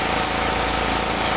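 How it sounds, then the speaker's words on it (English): A brief, steady hiss of paint spraying as clouds are painted onto a scene, close and continuous for a moment with no voices. "I'm just spraying"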